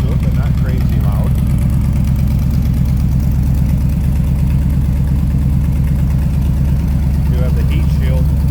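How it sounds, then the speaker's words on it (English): A 1928 Ford Model A street rod with a 428 engine idles behind the car, its side exhaust giving a steady, close, deep rumble while someone talks over it. "Back here you kind of hear the side exhaust. Nothing too crazy. Nice rumble to it, but not crazy loud."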